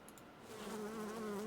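Bees buzzing in the Timberborn building game, a close, steady droning hum rising in loudness and holding on a wavering tone through the brief moment.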